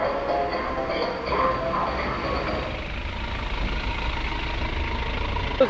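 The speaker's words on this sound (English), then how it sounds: "All this driving around and adding to the traffic noise" Street traffic rolls past in a steady wash of engine rumble and tyre noise, with a heavier vehicle passing early on, faint voices in the background and a small knock at the end.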